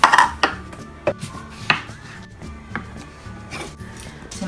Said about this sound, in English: So we're just chopping some stuff to go in little pots.